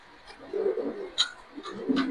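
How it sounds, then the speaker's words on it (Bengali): Racer pigeons cooing in cages at a pigeon farm, a few soft, low throaty coos close by in a quiet setting, with faint rustling between calls. "73 নম্বর কবুতরের খাঁচার অলরেডি কবুতরগুলো আপনাদের দেখাচ্ছি আমরা"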